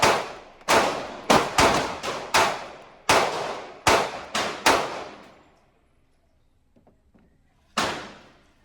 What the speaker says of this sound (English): right here I'm gonna shoot the Canik